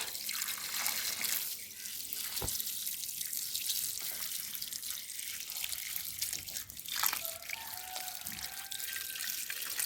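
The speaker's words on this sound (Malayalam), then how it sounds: "വെള്ളം ഇങ്ങനെ ഒഴിച്ചു കൊടുത്താൽ മതി" Water poured onto the soil of a potted rose makes a steady, close trickle and splash lasting about ten seconds, with a few brief drips and bursts breaking the flow.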